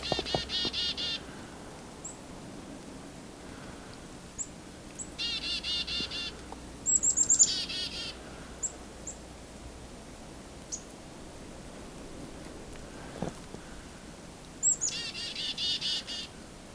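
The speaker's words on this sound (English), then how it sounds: "I've got some chickadees and red-breast nuthatch around me." Chickadees and red-breasted nuthatches call from nearby woodland at an adventure park in winter, repeated high chirps and nasal notes in short bursts over a quiet background, some close.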